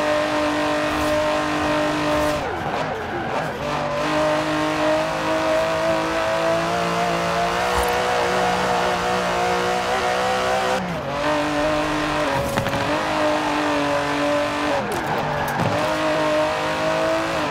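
Aston Martin engine in the racing game Forza Horizon 4, a steady loud revving drone with shifting pitch, brief dips as gears change, and tire squeal, with no talk over it.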